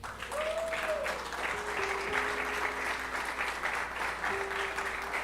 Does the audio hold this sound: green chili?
no